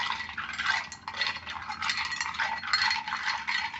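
A Manhattan cocktail being mixed with ice, with close, continuous rattling and clinking of ice in a mixing vessel.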